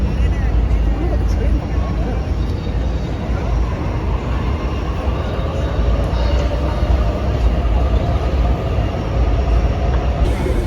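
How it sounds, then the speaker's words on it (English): A train rumbles past in the background of a Sydney street scene, a loud, sustained roar of wheels and cars with no voices heard. "I really like the way we can see the train behind us there"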